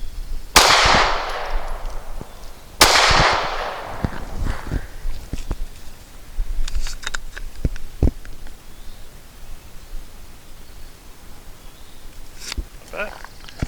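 An SCCY CPX-2 pistol fires two sharp, loud shots about two seconds apart, followed by fainter clicks, rustling and handling noises, with a person talking.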